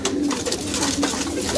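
Pigeons gathering to feed, close and continuous cooing from several birds layered over each other, steady and fairly loud with no talking.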